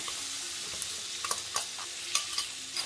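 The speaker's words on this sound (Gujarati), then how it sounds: "આપણે આટલા કડી પત્તા લીધેલા છે તે એડ કરીશું. હવે આપણે તેને થોડી વાર સાતડવા દઈશું." Ginger-chili paste with asafoetida and curry leaves sautés in butter and oil for pav bhaji, a close, steady sizzle and hiss with scattered crackles and pops throughout.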